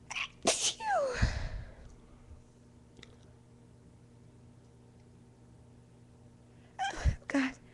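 A young woman lets out induced sneezes, a quick pair of loud sneezes at the start and another burst near the end, close and breathy, with quiet room hum in between.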